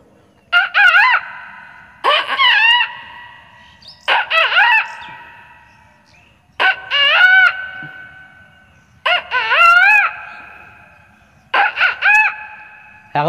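A boy imitates a rooster crowing at dawn, repeating a full cock-a-doodle-doo call about six times at regular intervals, loud and close, with short silences between calls.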